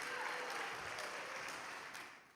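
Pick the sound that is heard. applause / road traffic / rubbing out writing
applause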